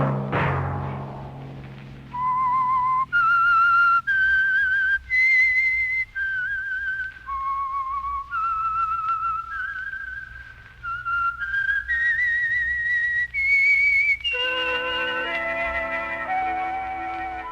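A clear whistled tune plays as the signal theme of The Whistler radio program, a solo melody of held notes rising and falling, ending under orchestral music.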